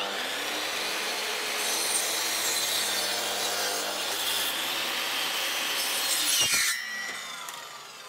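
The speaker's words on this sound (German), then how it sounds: "So, das Ganze jetzt hier mit der Kappsäge." A mitre saw cuts wooden pieces for a small table: one steady, loud cut lasts about six seconds, then the blade winds down and fades out.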